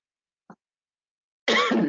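A brief faint catch in the throat, then a sharp, loud cough up close after a moment of silence.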